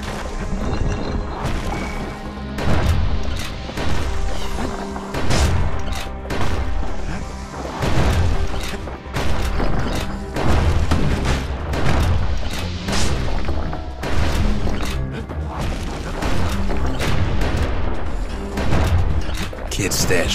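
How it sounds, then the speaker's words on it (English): Musket gunfire and explosions from the action video game Bastion, with a constant dense stream of booming blasts and crashing hits over layered game music, loud and continuous throughout. "Kids blasting everything in sight with that newfangled musket."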